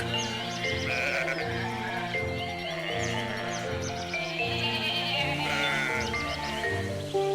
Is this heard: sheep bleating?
yes